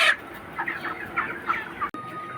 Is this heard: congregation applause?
no